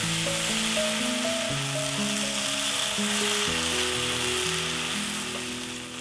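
Beef strips sear in oil in a pan over high heat, left undisturbed. A steady, dense sizzle runs throughout under background music, with no talking.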